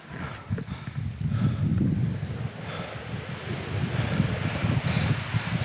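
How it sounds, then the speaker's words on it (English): Strong wind buffets the microphone at the summit of the dormant Mt. Liamuiga volcano in the Caribbean, a continuous low rumbling roar with gusty surges and no voices. "Definitely a lot more windy here at the top"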